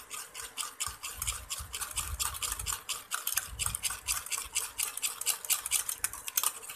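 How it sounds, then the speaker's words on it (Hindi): Egg, tomato and honey face mask being stirred by hand in a bowl, a steady rhythmic scraping and clinking of a utensil against the bowl, close and continuous with no talk. "इन तमाम चीज़ों को आपने अच्छी तरह से मिक्स कर लेना है।"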